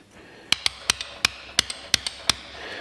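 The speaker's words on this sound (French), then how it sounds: "on va prendre une douille et on va tapoter pour le rentrer" A socket is tapped with a hammer to drive a part into a 50cc moped front fork: about a dozen sharp metallic knocks in a fairly even rhythm, close and loud.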